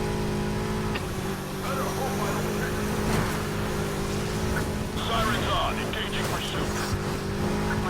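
A BMW M3 GTR engine in the Need for Speed Heat racing game, running loud and steady at sustained revs throughout, with brief shifts and touches of tire and traffic noise layered over the drone.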